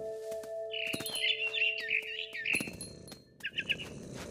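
A mother bird in the video game What Remains of Edith Finch chirps in a rapid, bright run of tweets over a steady background drone, then a rustle and a second shorter burst of calls.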